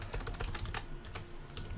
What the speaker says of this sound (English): I'm still typing down